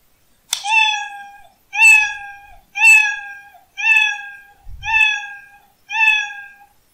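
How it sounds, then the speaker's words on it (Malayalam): Six repeated cat meows from a built-in Scratch sound effect, evenly spaced and loud, played alone with no talking. "ഇതൊന്ന് പ്രവർത്തിപ്പിക്കുകയാണെങ്കിൽ പൂച്ചയുടെ ഒരു ശബ്ദം കേൾക്കാൻ കഴിയും ഞാനൊന്ന് പ്ലേ ചെയ്യാം"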